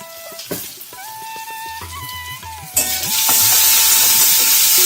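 Chopped medium onions with salt and turmeric stirred in a hot pan, with a loud, steady sizzle and hiss that swells after a brief clatter of the spatula, continuing alone without talk.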